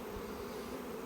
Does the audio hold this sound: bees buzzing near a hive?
yes